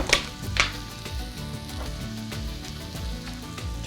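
Butter hits a hot pan already holding shallots and mushrooms, giving a steady close sizzle and crackle with a few sharp spatters near the start, continuing without talk.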